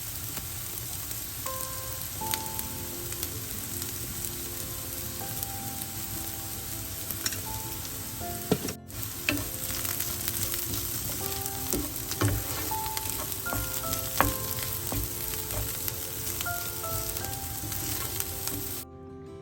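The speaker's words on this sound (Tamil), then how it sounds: "வெங்காயம் இப்போ கொஞ்சம் பொன்னிடமாக பொரிஞ்சு கொண்டு வந்துட்டது" Onions frying to golden in a pan give a steady, close hiss and crackle, with occasional light stirring taps and no speech.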